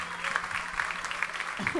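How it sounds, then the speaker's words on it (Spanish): An audience applauds a guest on a Spanish-language comedy talk show, producing a steady, fairly loud patter of clapping that lasts the whole short stretch. "Un aplauso para Gilberto, que se presta para esto"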